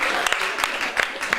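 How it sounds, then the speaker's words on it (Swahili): A church congregation claps at an anniversary service, a quick run of sharp, fairly faint hand claps in a loose rhythm against room ambience. "Mungu pigie makofi."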